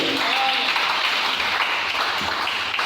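A church congregation applauding to acclaim the Lord during a sermon, a steady, full wash of many hands clapping together throughout.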